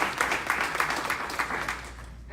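Applause for graduating students at a software developer graduation ceremony, a group clapping in quick uneven bursts that thins out and fades by the end, with faint voices beneath.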